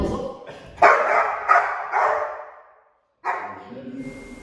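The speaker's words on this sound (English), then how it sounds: "You'll notice, even with Smokey, for a moment he's barked" A Belgian Malinois lets out several loud, close barks and yips in a quick burst, goes briefly quiet, then barks once more.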